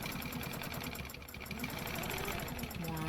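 Quilting machine stitching along a stencil on a quilt, giving a fast, steady mechanical chatter that runs continuously at moderate volume close by.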